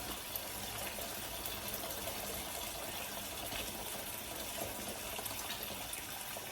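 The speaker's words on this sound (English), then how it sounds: "I'm going to just put boiling water." Boiling water gushes steadily into a pot for making pap at a South African braai, a continuous close pour heard alone with no talking.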